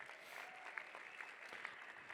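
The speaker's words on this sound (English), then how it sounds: "Let's give a round of applause to our donors tonight" Applause at an evening benefit fundraiser in downtown Denver for the donors: a soft, distant patter of clapping from the room, fairly faint and even, with a few sharper claps standing out.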